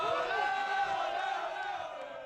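A live crowd cheers and roars in a sustained, dense wash of voices, loud and continuous, tapering slightly toward the end, with no distinct single speaker.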